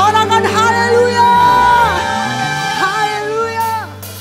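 A church congregation at an online worship service cheers and shouts hallelujah together, loud overlapping voices swelling and holding with whoops, close and sustained over a low musical drone.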